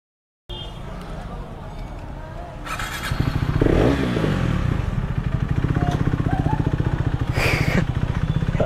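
A motorcycle at a petrol pump in Dehradun idles with a steady putter, then the throttle opens into a louder rev that settles back into a loud, close idle. A person talks over the engine.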